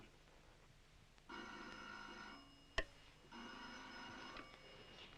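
An old telephone bell rings in two clear bursts separated by a short pause in a quiet room, each bright, jangling trill lasting about a second, with a sharp click between them.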